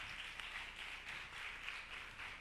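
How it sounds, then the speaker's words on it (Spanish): Audience applause at a film festival talk in Mexico, a steady dense wash of many hands clapping, moderately distant and fairly quiet throughout with no voices. "Un aplauso, muchas gracias."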